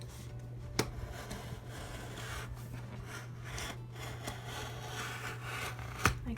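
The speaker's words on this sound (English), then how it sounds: "I'm just going to take my X-Acto knife and just kind of run it along the seam" An X-Acto knife is drawn along the glued seam of a Happy Planner disc coloring book page, producing quiet, close scraping and rasping strokes with a couple of sharp ticks.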